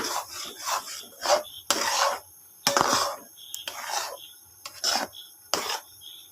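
A spoon stirring jackfruit seed halwa with ghee in a pan: repeated scraping and rasping strokes in short, uneven bursts with quiet gaps between them, close and clear.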